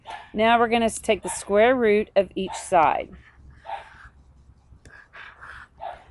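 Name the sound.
dog barking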